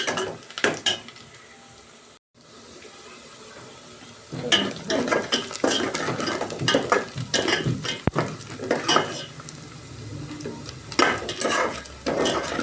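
Onions roasting in a pan for a cashew curry, sizzling with frequent scraping stirs and occasional utensil clatter against the pan, near and fairly loud, with a brief pause early on and no voices.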